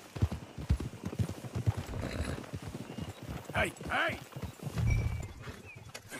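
Horse hooves clip-clop in a steady rhythm in Red Dead Redemption 2, with a short whinny midway, close and clear under a voice calling out and talking.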